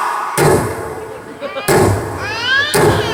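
A voice mimics a rifle volley fired at a military funeral, making three loud, abrupt blasts spaced about a second apart, with some talking in between.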